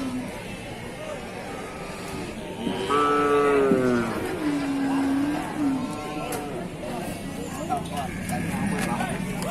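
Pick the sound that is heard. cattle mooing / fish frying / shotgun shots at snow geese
cattle mooing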